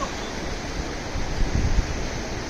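The Kabeli River flows steadily with a continuous broadband rush of water, slightly louder for a moment midway, with no voices over it.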